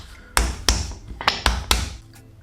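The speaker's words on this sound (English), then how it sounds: "I'm going to use this burger tool just to make sure my burger is nice and round" A burger press shaping a half-pound beef patty of about 225 grams gives five sharp, close tapping thunks in an uneven rhythm, each pressing knock loud and short against a quiet background.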